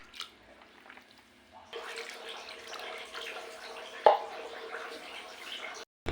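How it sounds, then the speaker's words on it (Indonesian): Seitan gluten dough being washed by hand in a bowl of water, with continuous sloshing and splashing, one sharper splash midway, and a quieter start before the washing picks up. "aku tambahkan air lagi, aku cuci lagi"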